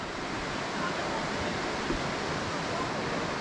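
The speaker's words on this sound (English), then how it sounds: "This rapids is Railroad Rapids." Continuous roar of river rapids on the Youghiogheny River among massive boulders in the Ohiopyle gorge, a steady broadband rush of whitewater with no breaks, heard alone without talk.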